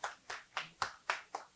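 Six sharp, evenly spaced claps sound in a quick steady rhythm in an audience at a panel event held at the NY nightclub SOB's. They are fairly faint and have nothing else under them.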